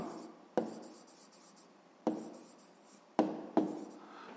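A pen scratching on paper while math exercises are written out, soft close strokes with four sharp tap-like onsets each trailing into fading scribble, no voices.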